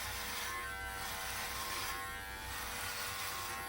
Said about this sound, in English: I'm just gonna use a beard trimmer, which is what this is designed for